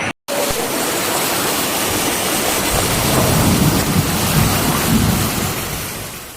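Torrential rain pours during an extreme storm in southern China, a loud, dense, roaring wash with a deep rumbling undertone, steady throughout after a brief cut near the start.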